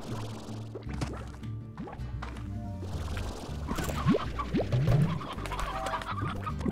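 A rooster in the video game Slime Rancher gives a few short clucks in the middle of the clip, mixed into a busy layer of in-game ambience and tones.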